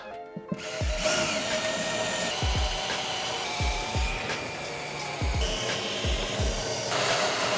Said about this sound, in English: If you just want to drill out the tack welds instead of trying to cut the whole thing